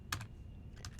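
A few crisp keystrokes on a computer keyboard as an SSH command is entered on a lab network device, two quick bursts of clicks near the start and another near the end, close and clear with no talking.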